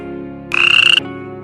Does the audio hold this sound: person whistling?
no